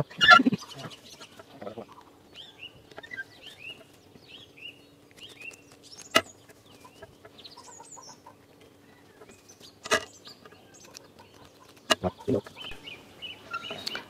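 Chickens near a straw-lined hen nesting pot in a garden, with scattered soft clucks and short calls over a quiet background, along with a few sharper knocks and rustles.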